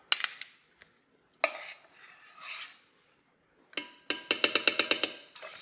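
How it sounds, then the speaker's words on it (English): A whisk stirring gelatin into milk for panna cotta: scattered scraping strokes, then a fast run of sharp metallic taps against the bowl, close and crisp with quiet gaps between. "Just whisk it up until it's all gone."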